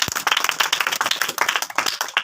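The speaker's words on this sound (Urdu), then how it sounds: "زوردار تالیاں اس بات کے لیے." A church congregation bursting into brisk, lively clapping that fills the room for a couple of seconds, with a faint voice at the start.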